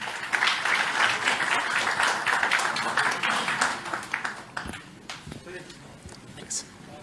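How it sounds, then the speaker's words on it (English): Forum audience giving applause, dense clapping that is loudest at the start, then thins into scattered claps and fades out while someone speaks over it. "Let's give a big applause to this forum."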